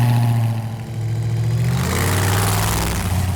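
Purple Plymouth lifted gasser engine roaring loud and close, dropping briefly as it shifts into second gear, then pulling hard again with a rising rumble.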